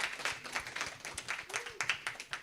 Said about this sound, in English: another round of applause for Miss Alicia Andrew